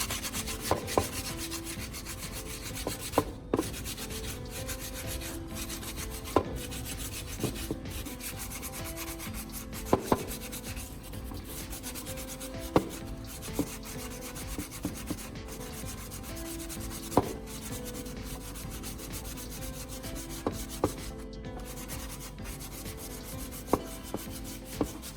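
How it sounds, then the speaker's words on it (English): Sandpaper dry-sands a repaired plastic surface by hand in steady, continuous rubbing strokes, close and even, with occasional light ticks and no talking. "I'm using sandpaper to smooth down the repaired areas on both sides."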